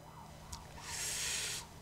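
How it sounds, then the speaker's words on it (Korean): Emergency siren wailing outside, heard faintly from a distance as a brief rising tone that swells and fades, with no talk over it. "밖이 많이 사이렌 소리가 나네요"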